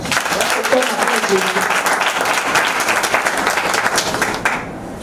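Loud, sustained applause from a church congregation during a worship service, dense clapping filling the whole stretch with voices mixed in, fading near the end.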